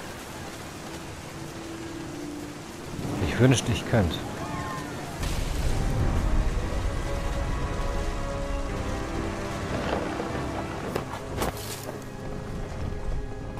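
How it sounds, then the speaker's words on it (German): Thunderstorm in the video game What Remains of Edith Finch, with steady rain and low rumbling thunder swelling through, under a voice talking. "Der Donner grollte viel zu nah, voll unheilvollbarer Power."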